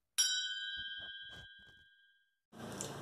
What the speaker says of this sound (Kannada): ಬೆಲ್ ಬಟನ್ನ ಕ್ಲಿಕ್ ಮಾಡಿ.